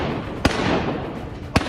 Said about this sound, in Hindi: AK-47 से लैस प्रदर्शनकारियों ने जमकर गोलियां बरसाई।